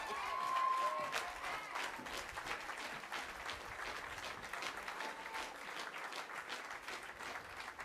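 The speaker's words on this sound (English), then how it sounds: "let's give another round of applause to our mayor" Crowd applause at an outdoor rally, steady sustained clapping heard from a distance, moderately faint with a brief tonal whistle near the start.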